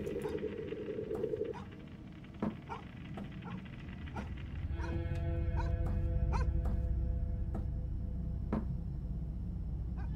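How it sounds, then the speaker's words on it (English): Dogs barking and whimpering in the horror game Fear Of Fathom, irregular barks spaced through the stretch over a low droning background with a faint sustained tone joining partway. "The dogs are barking."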